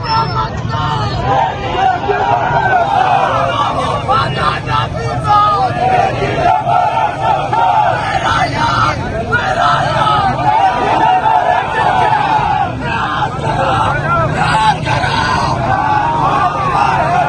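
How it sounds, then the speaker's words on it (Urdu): A large crowd of PTI party workers in Kohat chants Qaidi 804 slogans in a continuous loud roar of massed voices, with rhythmic shouting swelling over street noise throughout. "قیدی 804 کے جو نعرے ہیں وہ لگ رہے ہیں"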